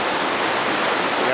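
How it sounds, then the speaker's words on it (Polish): Fast river with a strong current rushing between steep, sharp-peaked mountains near Aguas Calientes, a dense, steady broadband roar of churning water heard close and continuous with no talk. "rzeka porywista, jak w Szklarskiej Porębie, z tym, że mocniejszy prąd, więcej płynie wody"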